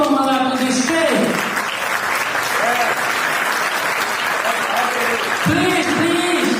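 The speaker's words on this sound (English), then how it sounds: "take the applause" A convention hall audience at a physicians' association gathering applauds a guest called to the stage, sustained dense clapping under voices talking throughout.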